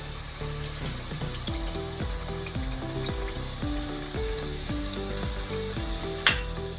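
Onions fry in a pan for a mixed vegetable pulao as garlic-ginger paste goes in, making a steady, close sizzle that runs throughout beneath a bed of tonal background music, with no one speaking.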